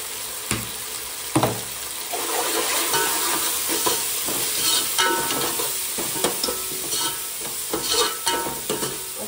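A spoon or spatula stirs and scrapes turmeric and spices in a cooking pan, giving a steady sizzle broken by sharp metallic scrapes and clinks, close and continuous with no talk.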